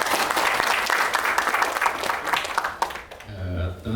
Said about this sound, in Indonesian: boleh tepuk tangan untuk Brownies di sini.